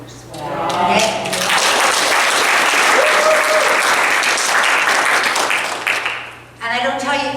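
Audience applause at a church talk, a loud sustained burst of clapping lasting several seconds, with a voice speaking briefly before it starts and again as it fades.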